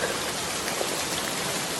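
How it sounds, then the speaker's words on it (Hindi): Steady rainfall hisses evenly throughout, a dense patter of drops on surfaces with no talking. "आज की होती हुई बारिश को देखकर"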